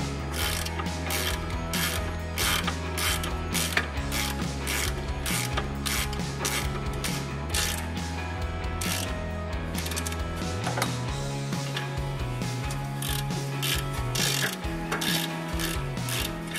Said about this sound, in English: Go ahead and put the nuts on the back of the retention plate. And we'll get those tightened up and torque them down the factory spec.